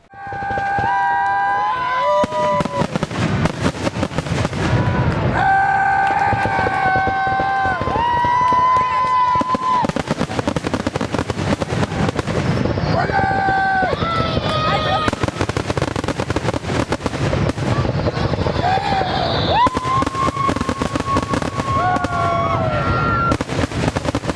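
Fireworks shells launched from a barge on Lake Orion boom and crackle in a steady loud barrage, heard from the shoreline with a crowd murmuring and reacting throughout, and music also playing.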